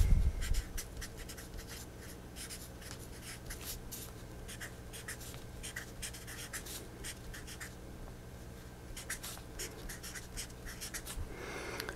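Pen or marker scratching across a surface in quick bursts of strokes and pauses, close and fairly quiet, with no speech.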